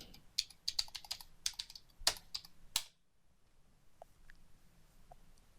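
Rapid keystrokes on a computer keyboard as a password is typed, a close, clicky burst of taps lasting under three seconds, followed by near silence with a couple of faint soft clicks.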